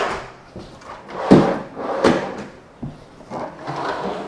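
Storage drawers inside a custom tiny house slide open and bump shut several times, loud and close, with uneven thuds and rolling scrapes spread across the moment.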